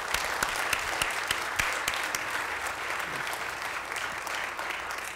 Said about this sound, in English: I wish that you'd give her a round of applause.